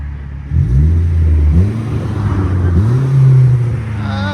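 A straight-piped 2011 Buick Regal CXL's deep, loud exhaust revs up several times, each rev rising in pitch and then falling back to a rumbling idle, heard close by.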